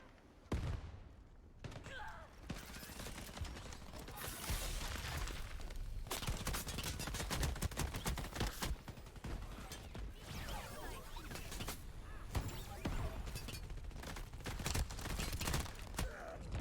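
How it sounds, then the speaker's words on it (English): Rapid bursts of gunfire from the shooter game Shatterline crackle in dense volleys with mechanical clicks and booms, loud and nearly continuous, with a voice speaking in places. "You're shooting me through objects."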